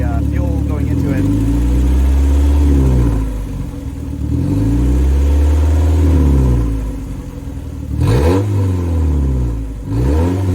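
1994 Mazda Miata engine, warmed up after sitting parked for 11 years, revving up and settling back several times in smooth rising and falling sweeps, loud and close, with a voice talking over it.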